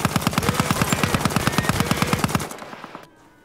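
Rapid automatic gunfire rattles out in a loud, fast, even burst of about thirty shots over two and a half seconds, then stops and fades into a faint echo.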